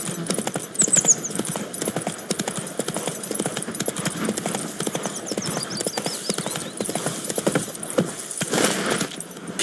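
Horse hooves clop in a fast, steady galloping rhythm throughout in The Witcher 3, with faint jingling of tack, close and prominent with no voices.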